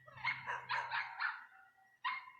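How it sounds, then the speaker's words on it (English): Several dogs barking in quick bursts, a run of close, loud yaps over about a second and a half, a short pause, then one more sharp bark, with no talk over them. "The dogs are going a little crazy"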